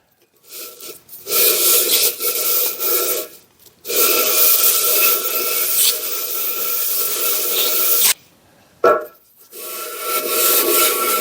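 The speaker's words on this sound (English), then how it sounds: "This stuff files, mills really nice. Let's do the sides." Metal file rasping over cured JB Weld Steel Stik epoxy clamped on a Palmgren vice, loud close strokes in several long bursts separated by brief silent pauses.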